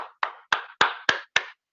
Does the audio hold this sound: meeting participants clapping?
yes